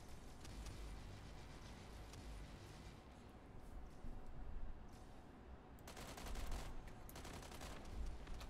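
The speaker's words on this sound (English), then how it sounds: "And maybe shooting at the wall will help." Rapid bursts of video game gunfire fired at a wall, loud and steady with a denser flurry of shots near the end, no voices over it.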